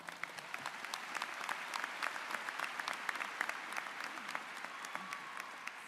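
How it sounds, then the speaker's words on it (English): Sustained audience applause at a spring college commencement ceremony, a steady dense patter of many hands clapping throughout, moderately loud and even with no voices on top. "let's give a round of applause"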